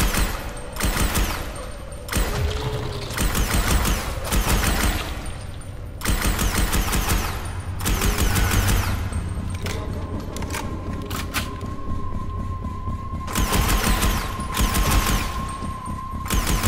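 Sustained bursts of automatic gunfire from a gun in the Dying Light video game, a dense rapid rattle repeating in loud volleys across the whole stretch with brief gaps between them.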